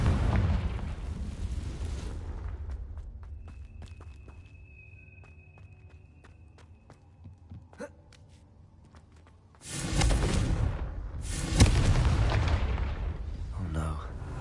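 Confringo blasting spells go off in the Hogwarts Legacy video game, with a loud rumbling blast at the start that fades into quiet clicks and game tones, then two heavy booming explosions in close succession near the end.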